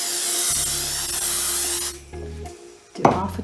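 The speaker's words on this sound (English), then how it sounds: "this is a spray-based 505 temporary spray" 505 temporary spray adhesive hissing from a can onto quilt backing in one long steady burst, then stopping, followed by brief handling noises and a shorter second hiss at the end.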